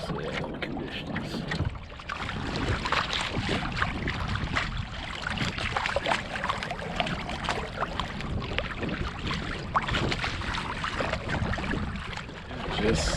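Sailing kayak moving under sail on open water off Key Largo, Florida in a gentle offshore breeze, with steady wind rush and water wash around the hull throughout, broken by occasional splashes.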